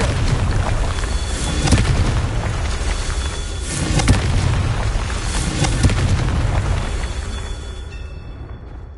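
Repeated Confringo fire spell blasts in Hogwarts Legacy, loud booming explosions with rumbling low end at steady intervals through a dense battle soundscape.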